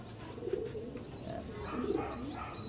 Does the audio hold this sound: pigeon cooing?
yes